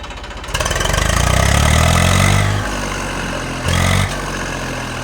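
An all-original Eicher 380 R-line tractor engine idles nearby with a loud, steady diesel throb, revving up briefly, settling lower, then surging once more before dropping back, with no talking.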